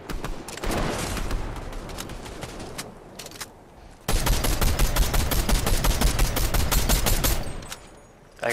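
Rapid video game gunfire from an RTS trios match plays as a bright crackling burst, pauses, then resumes as a longer sustained barrage, with a sudden loud hit at the very end.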